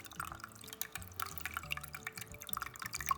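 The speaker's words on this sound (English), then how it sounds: "You can see the pump seems to be working and pumping water." Water from the small pump of an Aqua Flame decorative candle trickles and drips steadily, with a fast, irregular patter of close droplets and a faint low pump hum underneath. No voices are heard.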